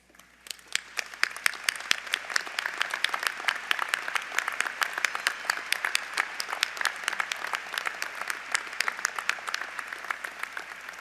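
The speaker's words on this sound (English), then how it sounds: "So it is now my distinct pleasure to ask all members of the faculty to stand as you join me" Sustained applause from a large commencement audience honoring standing faculty, a dense patter of many hands that swells quickly and holds steady, slightly distant in a big hall.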